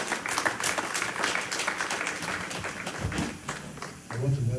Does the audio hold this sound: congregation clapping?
yes